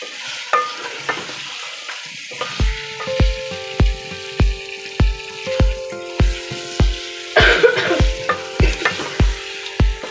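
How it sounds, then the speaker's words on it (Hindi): Chicken and green peas fry in masala for matar gosht while a spoon scrapes the pan in a brisk, regular rhythm of clanks over a continuous close sizzle. "अब हम इसे 10 से 15 मिनट अच्छे से मसाले में भूनेंगे।"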